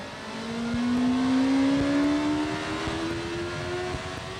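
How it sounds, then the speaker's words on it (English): A motorcycle engine on a Superflow CycleDyn dynamometer revs up, its whine rising steadily in pitch and then holding high, with a whirring mechanical drone underneath. "The system now waits for the operator to open the throttle and will automatically trigger data acquisition when the start speed is reached."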